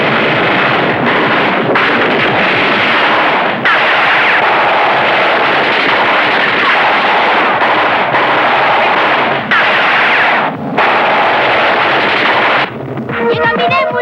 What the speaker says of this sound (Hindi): पुलिस अंकल, गोली चलाना बंद कर दो